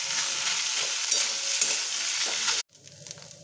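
Flaked fish bhujia fries loudly in a pan as it is stirred, giving a steady close sizzle with scraping strokes that cuts off abruptly partway through, leaving a quieter murmur of cooking.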